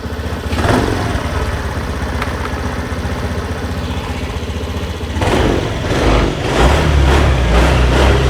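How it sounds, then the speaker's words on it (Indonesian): A Honda Vario scooter engine runs after a throttle adjustment, a loud, close, steady idle that rises with throttle blips in the second half. "Tarikan gasnya enak ya teman-teman, nggak ada nahan-nahan sedikit ya"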